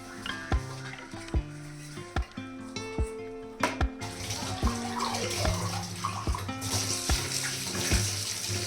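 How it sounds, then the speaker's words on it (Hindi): Dishes being washed in a kitchen sink under a running tap, with steady water flow and repeated sharp clinks and knocks of utensils and pots at close range, no talking. "बर्तन मैं ही धो देती हूँ"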